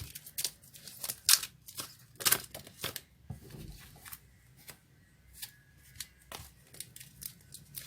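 Tarot cards are shuffled by hand in quiet, irregular bursts of crisp riffling and soft slapping, close to the listener and with no talking.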